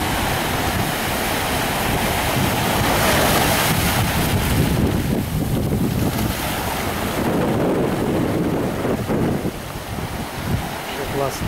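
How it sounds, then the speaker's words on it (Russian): Ocean surf and strong wind on the beach at El Medano, Tenerife, a loud continuous roar with heavy wind buffeting the microphone throughout. "О, океан, океан, океан."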